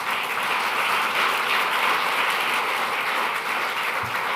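A summit audience applauds a welcomed guest at a global renewable energy gathering, giving a broad, even wash of clapping from a large hall that stays steady across the whole stretch, with no one speaking.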